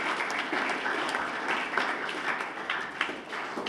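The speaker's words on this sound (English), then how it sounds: "Let's just give Marcus another round of applause for that great performance." Audience at a school chapel assembly applauding a performance, dense steady clapping from many hands filling the whole stretch at moderate loudness.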